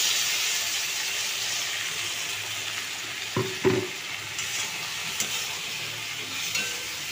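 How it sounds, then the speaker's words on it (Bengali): Mustard and green chilli paste sautéing in a pan gives a steady, close sizzling hiss throughout, with a couple of brief stirring knocks partway through. "এগুলো সব দিয়ে দিলাম, দিয়ে আমি একবারে কষাবো।"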